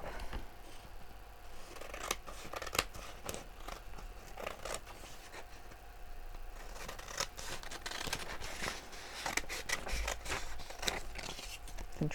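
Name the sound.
trimming paper with scissors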